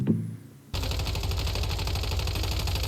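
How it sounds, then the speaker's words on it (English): Assault rifle in the survival game Once Human: after a brief quiet moment, sustained rapid automatic fire begins abruptly and continues in a fast, even rattle, loud and close. "the assault rifle just shredded it"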